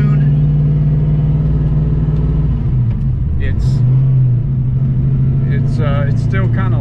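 A Fox Body Mustang with a 408 stroker V8 idles with a deep, loud rumble and blips its throttle into short revs, with someone talking over it.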